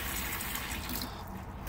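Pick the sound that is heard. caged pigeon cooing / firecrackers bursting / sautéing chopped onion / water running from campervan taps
water running from campervan taps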